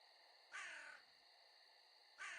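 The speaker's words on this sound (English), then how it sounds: "The little bird noise whenever you click anything is hilarious." Two crow caws, short and raspy, play as the interface click sound in the 7 Days to Die Viking Mod video game; each caw is brief and faint, with quiet gaps between.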